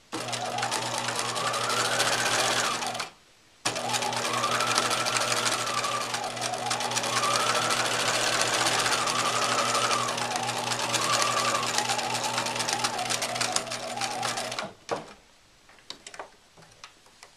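A sewing machine stitches down a folded fabric hem on an apron pocket, running in a steady close rapid whir, stopping briefly after a few seconds, then sewing continuously for a long stretch before halting.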